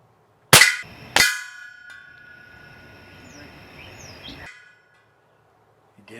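A Crosman 362 .22 caliber air rifle fires with a sharp close crack, followed by a second sharp report a moment later and a faint lingering ring before silence.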